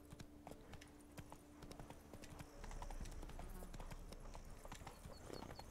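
Steady clip-clop of horse hooves trotting in Witcher 3: Blood and Wine, fairly close and continuous, growing a bit louder partway through, with ambient game background noise.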